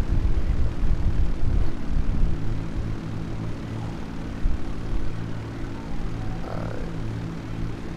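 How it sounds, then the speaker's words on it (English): A Cargobob aircraft in the video game Grand Theft Auto V, landing with its main gear up, gives off a loud, continuous droning engine hum with a heavy low rumble that eases slightly partway through. "this is me attempting to land the cargo bob with the main gear up"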